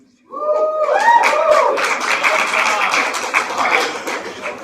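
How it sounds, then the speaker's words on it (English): A crowd at a 2026 Utah Senate District 18 candidate debate breaks into loud, sustained clapping and cheering that starts abruptly and stays dense and close, with voices rising out of it at the onset. "So that's a cheer for socialism."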